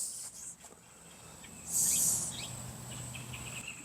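Bird calls and chirps scattered through the clip, with one louder, bright burst near the middle over a steady background hum.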